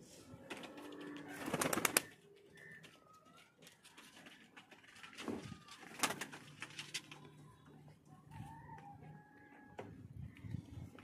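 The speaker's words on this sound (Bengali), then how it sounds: "দেখুন একটা হোমার কবুতর" Homer pigeons in a pigeon loft coo softly and intermittently, with occasional wing flutters and knocks nearby.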